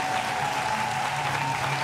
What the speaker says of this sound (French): Je vous demande d'applaudir très fort, s'il vous plaît.